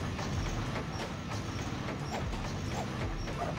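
A train in the Sonic Adventure 2 video game, heard as a steady, dense mechanical rumble with rolling clatter that runs unbroken for the whole stretch, with no voices over it.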